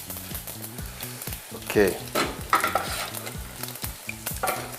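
Fennel seeds and cloves sizzle and pop in hot oil on a stove, with steady frying crackle and stirring scrapes throughout and a brief spoken word partway through.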